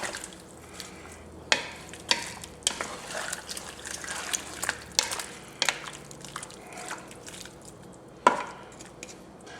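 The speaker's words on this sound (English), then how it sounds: "now we're going to give this a good stir, get everything mixed" A spoon scrapes and sloshes through a pot of beef roast enchilada mixture, with irregular clunks against the pot over a low simmering sizzle, close and moderately loud.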